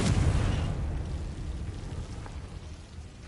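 A Confringo fire spell from the Hogwarts Legacy video game bursts loudly at the start, then its rumbling blast decays into a low crackling roar that fades slowly over several seconds.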